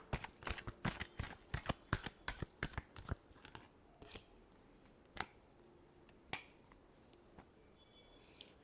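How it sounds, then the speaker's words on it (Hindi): Tarot cards being shuffled by hand, a quick run of crisp, riffling card slaps followed by a few sparse, isolated flicks, close and fairly quiet, with no talk. "Last shuffle."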